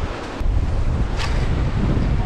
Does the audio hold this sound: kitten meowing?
no